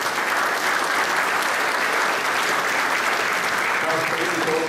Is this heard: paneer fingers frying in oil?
no